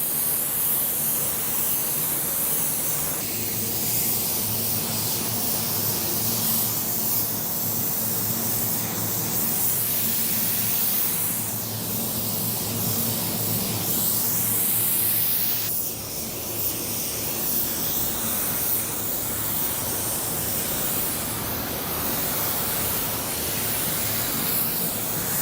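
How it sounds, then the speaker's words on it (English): A spray gun applies car paint in color B621P, a loud, unbroken hiss of atomized paint that runs on steadily with slight dips as the gun moves, close up and with no talking. "We're ready to spray."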